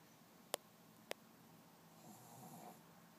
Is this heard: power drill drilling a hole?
no